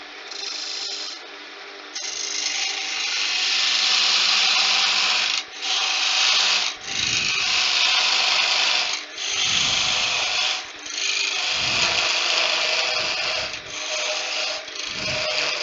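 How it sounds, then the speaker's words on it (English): A parting tool undercuts wood toward the centre on a lathe while turning a candlestick, a loud scraping, whirring cut in repeated passes broken by brief pauses. "for your parting tool, and we're going to undercut all the way to the centre"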